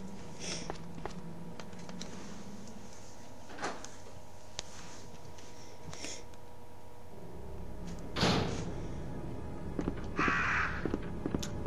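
Crow caws from the Resident Evil 2 video game, harsh calls heard at a moderate distance over steady ambient game hum, with a door-like thud and clatter partway through and no talking.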